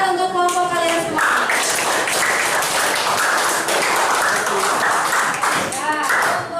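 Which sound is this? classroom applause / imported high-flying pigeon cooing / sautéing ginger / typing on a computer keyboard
classroom applause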